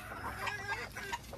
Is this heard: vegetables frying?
no